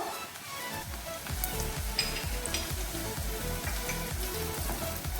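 White cumin, chopped garlic and green chilies fry in a pan, a steady close sizzle and crackle with faint stirring scrapes throughout.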